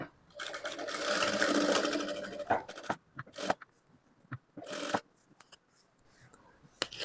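A sewing machine stitches frock fabric while a blouse is turned into a frock. A long, close, steady run of stitching is followed by several shorter bursts with pauses and fabric handling between them.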